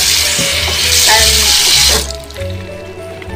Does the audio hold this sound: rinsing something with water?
yes